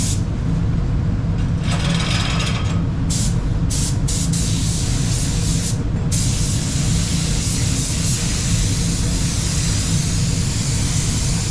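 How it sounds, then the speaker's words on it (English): A DV1 base coat spray gun with a B plus air cap at 1.3 sprays wet-on-wet car paint in a continuous loud airy hiss over a low rumble, with brief gaps in the hiss. "the gun he's got there is the DV1 base coat gun"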